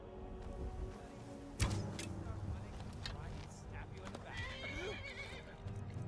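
A horse in the video game Skyrim whinnies with a rising, wavering neigh amid game ambience and clip-clopping hooves, under a voice talking.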